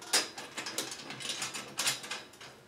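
A ratchet wrench clicks in short bursts while tightening the parts of a Farmertec Holzfforma Alaskan sawmill, close and fairly quiet, with uneven pauses between strokes and no talking.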